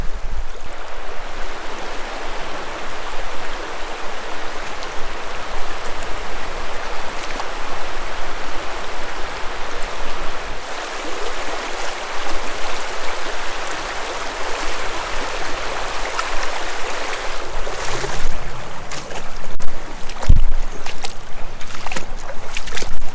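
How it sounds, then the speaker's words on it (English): Water rushes and splashes steadily as someone wades across the rocky Buffalo National River in Arkansas, a loud continuous flow with louder sloshing bursts near the end. "So I crossed the river"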